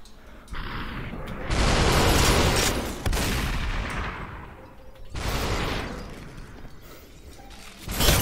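Gunshots in the video game Superhot go off in a few loud, broadband bursts spread across the stretch, close and harsh, with short quieter gaps between volleys.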